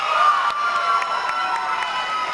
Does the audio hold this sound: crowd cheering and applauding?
yes